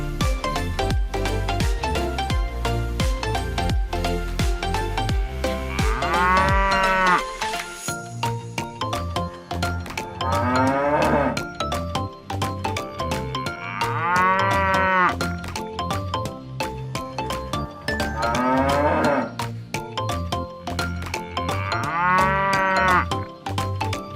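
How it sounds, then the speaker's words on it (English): A cow moos in long, drawn-out calls, four or five loud bellows spaced a few seconds apart over a steady musical backing. "Cow."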